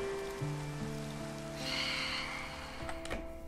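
Rain falling in the Minecraft video game, a steady soft hiss that runs throughout under game tones and music notes, with no talking.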